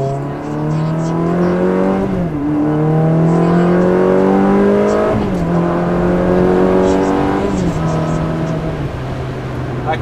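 A Ferrari 360 Modena's engine revs loud and close, its pitch climbing through three repeated rises with brief drops between them, like accelerating through gears, with a constant roar throughout.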